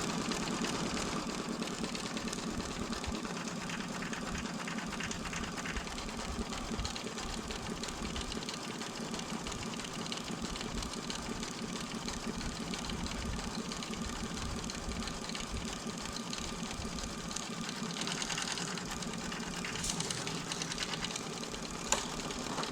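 An embroidery machine runs the tack-down stitching around the body of a snap tab wallet, a steady rapid mechanical chatter that continues without pause and without talking.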